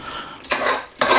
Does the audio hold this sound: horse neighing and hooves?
no